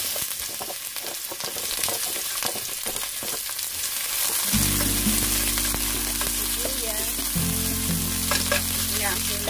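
Onions frying in olive oil for chicken adobo: a steady, loud sizzle erupts about halfway through when they hit the pan, with light stirring clatter, following quieter kitchen background.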